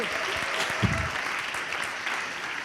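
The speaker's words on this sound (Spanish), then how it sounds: "I que siga l'aplauso per Andrés Llena" Dense studio-audience applause for a guest on a lively Valencian television show, steady and moderately loud throughout with a faint thump partway through.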